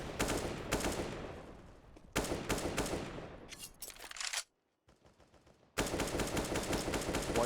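Rapid automatic gunfire sprays through a white box in Counter-Strike on the Cache map during a G2 versus NIP match, loud dense bursts that cut out briefly before resuming.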